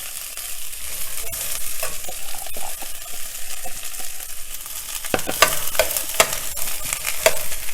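Beans frying in hot oil with urad dal, cumin and curry leaves, a steady close sizzle broken by sharp stirring clatters from a spatula against the pan.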